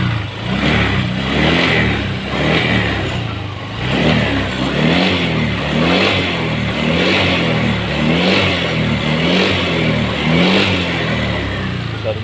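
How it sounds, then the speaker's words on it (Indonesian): Close up, a Honda Vario 150 scooter revs in repeated rising and falling bursts over its idle, its rebuilt engine giving a rough piston-knocking clatter, with no voices. "Bisa teman-teman dengarkan suara bantingan pistonnya ya."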